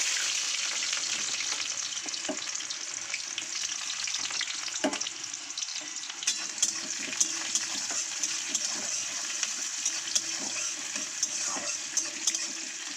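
Chopped onion with black cumin sizzles steadily in oil in a kadai, a dense, continuous frying hiss with occasional stirring clinks and pops throughout.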